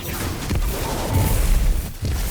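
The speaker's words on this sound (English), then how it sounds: "you charge your nade, throw on him, and see the void element" A void grenade detonates in Destiny 2, giving a loud, sustained rumbling boom that fills the low end, with a brief dip before the roar resumes.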